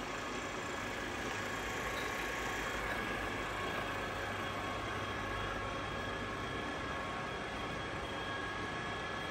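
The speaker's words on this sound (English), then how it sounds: "Working a spindle at its maximum speed, that is 1985 RPM." Ooya RE2-1300A radial arm drill with its spindle running at its top speed of 1985 RPM, a steady, even machine drone with a faint high whine, holding constant and close throughout.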